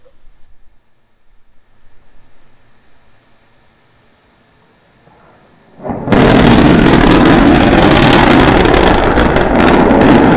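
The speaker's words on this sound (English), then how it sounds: "We're preparing to restart 2 engines, flip the vehicle vertical, then transition to 1 engine for the landing burn." A SpaceX Starship rocket engine roars to life after a quiet stretch, a sudden loud, dense, continuous rumbling blast that holds steady to the end.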